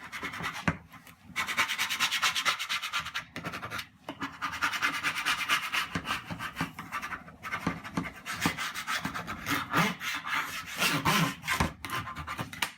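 Sticky vinyl being burnished, rubbed down firmly onto a plate, heard as close, loud, continuous scraping strokes broken by brief pauses.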